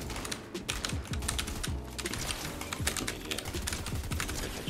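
Fast, dense typing on a computer keyboard during gaming: a steady clatter of sharp key clicks and thumps, close and loud, with no speech over it.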